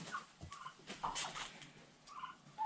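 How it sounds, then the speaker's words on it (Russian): Farm turkeys of Hybrid Converter and BIG-6 breeds gobble in short burbling bursts, several calls overlapping close by at moderate volume, with no talking. "Это индюки."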